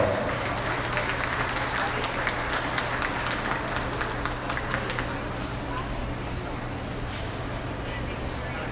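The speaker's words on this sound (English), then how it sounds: "Let's give them a round of applause." A crowd applauds at a 2025 swine show after a class of market hogs, a steady wash of clapping that fades and thins toward the end, with an announcer's voice and a low PA hum underneath.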